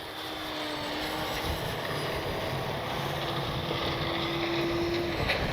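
An all-stock FMS Ranger 1220 mm RC airplane flies in strong wind, its electric motor droning continuously with rising and falling pitch over gusty wind noise, moderately distant and without speech.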